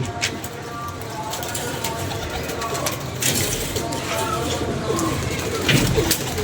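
Pigeons coo at a rooftop loft beneath a constant wash of noise and nearby voices, with the soft calls partly masked throughout.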